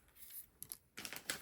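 Scissors cut down a paper sentiment for a card, giving two or three quick, close paper snips in a short, quiet burst.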